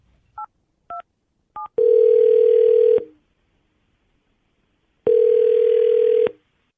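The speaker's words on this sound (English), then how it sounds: "Okay, calling Debbie's landline." Landline call being placed: a few short touch-tone dialing beeps, then two long steady ringback tones separated by a pause, clear and close with no talking.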